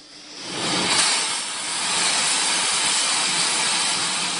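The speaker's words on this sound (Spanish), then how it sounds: "su sonido llena el Museo de Motores Antiguos en Vista, California, cerca de San Diego, donde hay docenas de máquinas funcionando" Dozens of antique engines running together in an engine museum in Vista, California, near San Diego, a loud, steady hissing roar that swells in over the first half second and holds without a break.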